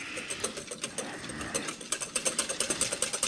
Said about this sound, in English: continue whisking while you add the oil very slowly, steady stream